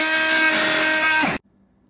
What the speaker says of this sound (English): Now we have the nitrous carbide Milwaukee blade versus the wood with nails.